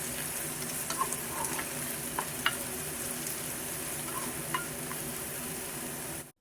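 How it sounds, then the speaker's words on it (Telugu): Onions are stirred into hot oil in a pan for an egg curry and crackle loudly and evenly. A spoon clicks and scrapes against the pan now and then, and no voices are heard. "ఆనియన్స్ని కూడా వేసేసి ఒకసారి బాగా కలుపుకొని"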